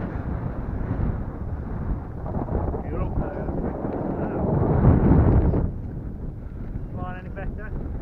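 Strong wind buffets the microphone outdoors at a model airfield, a heavy rumbling roar that swells midway then eases, with faint buzzy sounds near the end.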